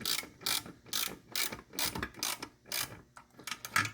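A hand ratchet snugs down the 7/16 bolts on a Derale external oil cooler mount on a Gen 5 Camaro SS, giving eight or so close, crisp bursts of clicking in a steady back-and-forth rhythm, with no talking.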